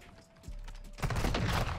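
A sniper rifle shot in a first-person shooter, a sharp burst then a loud sustained crackle of gunfire and impact noise, close and dense, over steady game background.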